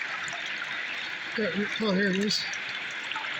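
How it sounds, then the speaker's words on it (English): Water runs steadily while buckets are panned for gold outdoors, giving a continuous close rushing and trickling hiss, with a person speaking briefly over it. "Hard to see with the water flow"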